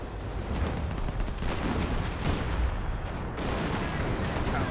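Artillery barrage in the WWII strategy game Company of Heroes: a dense, continuous roll of heavy booms and blasts, loud and rumbling, with overlapping impacts throughout.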